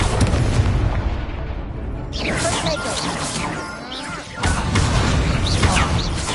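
Spell explosions in Hogwarts Legacy combat boom and crash in quick succession, loud and close, with a short lull before another heavy blast.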